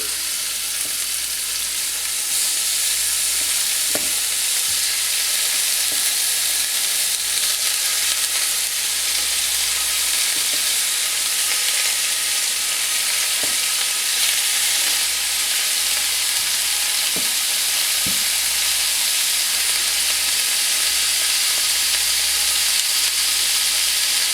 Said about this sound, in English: in a large heavy duty pot we have heated up 2 to 3 tablespoons of vegetable oil, and we're gonna place our roast in here